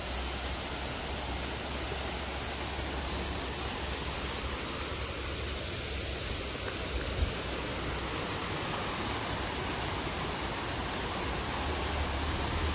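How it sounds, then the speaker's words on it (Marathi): Water rushing over stones in a stream next to the Mumbai–Malvan road: a steady, loud, broadband wash that holds constant throughout with no voices. "या साईडने येतं पाणी"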